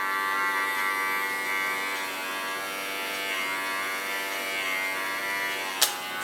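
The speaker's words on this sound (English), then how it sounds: "Barber clipper." An electric barber clipper buzzes steadily and close up while shaving hair for a bob side-shave, holding a constant whine until a sharp click near the end.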